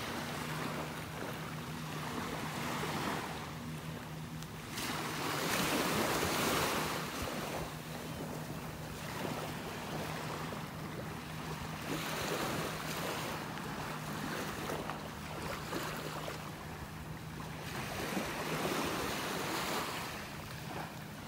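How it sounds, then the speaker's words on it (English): Small waves from passing boats' wakes washing onto a beach on the Gulf in North Naples, Florida, gentle surges every few seconds with steady wind noise and no talk. "These little waves are caused by boats going by out in the Gulf."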